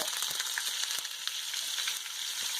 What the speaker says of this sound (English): here's a nice sizzle.